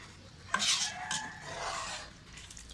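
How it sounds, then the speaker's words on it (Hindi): Peas dropped into a pot of cooking minced meat, a soft clatter and scrape followed by quiet stirring and a faint sizzle, close and low in volume. "ये देखिए अब मैं इसमें मटर डाल दूँगी"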